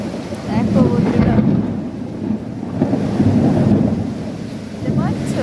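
A thunderstorm brings rumbling, rolling thunder over loud, heavy rain, with gusts of wind and faint voices mixed into the noise.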